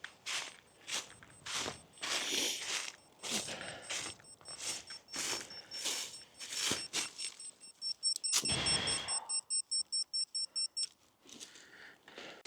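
A lost FPV drone sounds its locator alarm, a rapid run of sharp, evenly spaced beeps that follows a stretch of steady footsteps close by.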